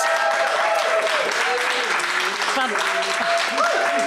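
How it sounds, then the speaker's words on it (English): A live studio audience at an Edinburgh festival broadcast applauds loudly and steadily throughout, a dense wash of clapping with whoops and voices mixed in. "Can we have a round of applause from the live studio audience?"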